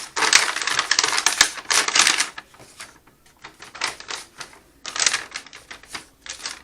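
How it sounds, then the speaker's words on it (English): Paper bag being opened and folded over during math center prep, producing close crisp crinkling and rustling in bursts with short quiet gaps between. "I'll just pull the bag back out, and what I do is open the bag up, and then I kind of fold it over."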